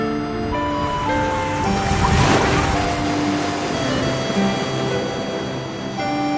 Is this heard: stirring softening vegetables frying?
no